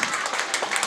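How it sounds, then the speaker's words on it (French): Applause from an audience honouring Tonton Seydou at a community gathering, a dense, steady patter of clapping with crowd noise running through the whole second. "On applaudit Tonton Seydou"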